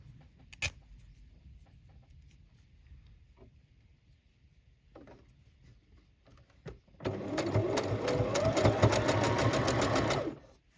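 A domestic sewing machine stitching fabric for craft tag toppers: after a quiet stretch with a few clicks and handling noises, the motor whirs into a fast, steady, close run of stitching for about three seconds before stopping.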